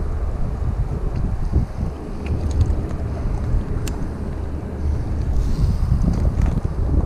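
Riverboat American Harmony passing on a river, a steady low rumbling drone that persists throughout, mixed with gusty wind buffeting on the microphone.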